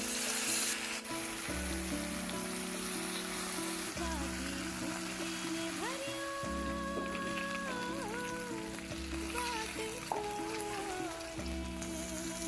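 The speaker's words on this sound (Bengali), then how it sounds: "যেহেতু মাছগুলো ফ্রোজেন মাছ ছিল তাই আমি একটু লালচে করেই ভেজে নিচ্ছি" Frozen khoka hilsa pieces fry in hot oil with a constant crackling sizzle, while a tuneful background sound with shifting notes plays alongside.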